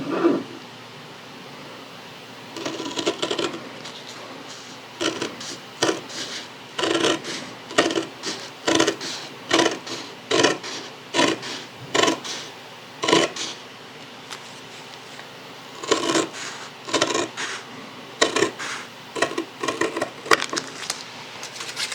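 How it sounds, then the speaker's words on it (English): Fabric-shears-style scissors snip through a paper sewing pattern for a collar in a run of short, crisp cutting strokes, close by and fairly steady, with brief pauses between bursts. "I'm pushing the scissors towards the paper"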